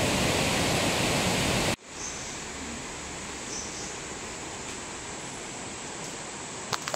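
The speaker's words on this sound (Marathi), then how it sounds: "एवढं पाण्याला जोर असतो." Forceful water rushes near a riverside Hariharehswar temple site, a loud dense roar that cuts off abruptly after a couple of seconds, then continues as a softer steady wash of flowing water, no voices.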